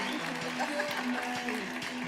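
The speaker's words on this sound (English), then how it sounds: "Oh, I like that applause." Audience clapping at a local dance show, a short burst of steady applause from a crowd in a hall, with someone talking over it.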